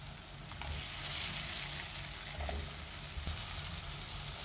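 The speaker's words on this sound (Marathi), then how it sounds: "2 मिनिटं बटाट्याच्या फोडी आपण चांगल्या परतून घ्यायच्या आहेत" Potato pieces sizzle steadily in a pan with tomato as they are sautéed for a spicy Marathi sprouted moth bean and potato curry, a continuous close frying hiss with faint stirring clicks.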